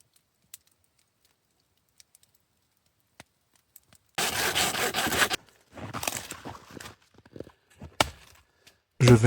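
Firewood branches are sawn in a frozen winter camp at -30°C, with a few faint clicks in near silence before loud, rough saw strokes start in bursts, close by.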